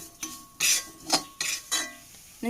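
Spoon stirring Kerala-style clam meat (kakka) being roasted with spice powders in a pan, with several distinct scraping strokes and clinks against the metal at an irregular pace, heard close up with no speech.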